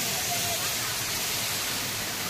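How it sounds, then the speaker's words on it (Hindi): A waterfall in Chandigarh roars as a steady, dense rush of falling water, loud and unbroken throughout, with no voices over it. "झरना देख लो दोबारा एक बार आप लोग"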